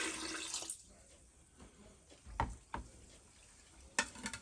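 Nitric acid poured into a container of rolled gold during refining, a brief liquid stream at the start followed by quiet, then a few soft splashes and clinks, faint and close.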